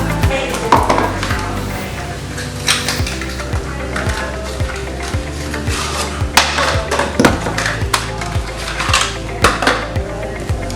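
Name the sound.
mixing hair bleach, developer and Olaplex in a bowl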